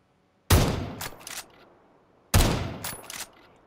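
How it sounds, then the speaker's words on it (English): Two loud, close bursts of rapid gunfire in the video game PUBG, each with a sharp onset and a decaying echo tail, separated by about two seconds of near silence. "I'm gonna take some shots at them."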